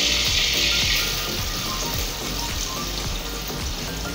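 Onions sizzle loudly in hot ghee in a pot while frying for a biryani, a dense, steady crackling hiss that is strongest at first and eases slightly.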